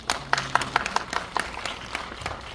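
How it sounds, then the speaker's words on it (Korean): Sparse, uneven clapping from a small cinema audience during a stage greeting at a Megabox screening, distinct individual claps close by with a low hum beneath. "이렇게 많은 박수 주셔서 진심으로 정말 감사드립니다"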